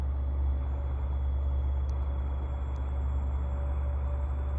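A steady low engine rumble of a truck driving close by in American Truck Simulator, constant and loud throughout, with a faint high electronic tone above it.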